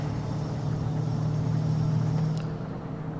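A Peterbilt 357 heavy hauler truck engine in American Truck Simulator drones as a steady, loud, low rumble, holding an even pitch throughout with no voices.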